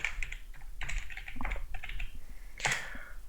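Password keyed in on a computer keyboard during an OpenBSD 6.8 install, a quick close run of irregular clicky keystrokes for a few seconds, with no voice.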